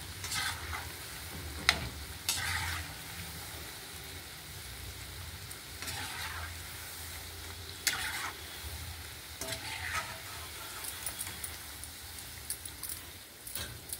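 Food frying in a pan on a home stove, a steady low sizzle with intermittent scraping and clinks of a utensil, no voices.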